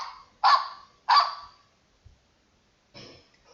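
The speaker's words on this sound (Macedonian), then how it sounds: "Домашни птици." Domestic poultry, with a goose-like honking fowl among them, give two loud, close honks in quick succession, and after a pause a softer third call follows.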